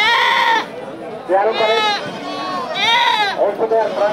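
Several small local goats bleat in turn at a crowded outdoor goat market, loud wavering cries over a murmur of voices.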